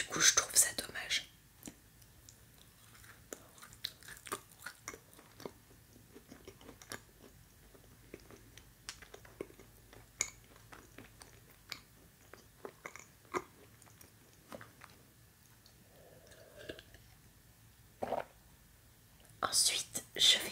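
Whispering over close, crisp chewing and biting of a mouse-shaped pastry topped with white almond paste, soft wet mouth sounds scattered through a quiet room with louder bursts at the start and end.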